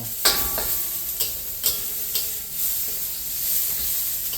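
Onions and garlic sauté in a pan, a moderate sizzle with several sharp clicks of a utensil stirring against the pan, no speech.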